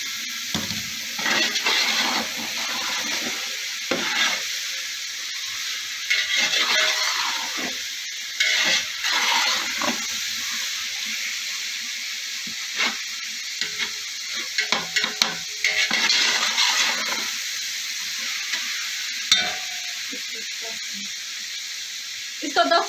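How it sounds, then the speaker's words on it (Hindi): Chicken pieces frying in a pot for pulao, a loud continuous sizzle and hiss with bursts of stirring, while a person talks intermittently over it. "इसमें चिकन डाल देंगे।"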